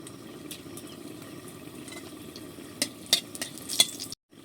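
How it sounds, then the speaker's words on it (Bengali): Dried red chillies frying in white oil in a kadai, a soft steady sizzle with scraping stirs and a few sharp clinks of a spatula near the end, close by, before a brief cutoff; no talking. "শুকনো লঙ্কাটাকে একটু ভেজে নেড়ে চেড়ে লালচে করে নিয়েছি"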